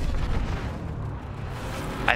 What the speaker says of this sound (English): that was just my cannon